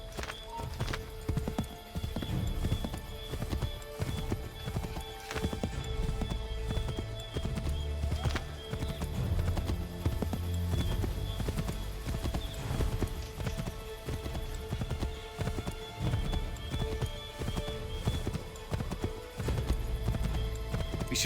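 Horses gallop in Assassin's Creed III, with continuous rapid hoof clip-clops and occasional whinnies carrying on steadily at moderate loudness.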